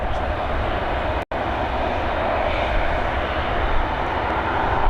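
A Boeing 737 inbound from Newquay to Dublin Airport's runway 28L roars steadily at moderate distance, a broad continuous engine rumble with one brief dropout.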